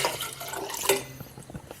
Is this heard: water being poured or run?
yes